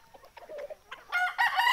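Sonali desi chickens clucking and squawking nearby, several short calls rising into louder, sustained cries toward the end.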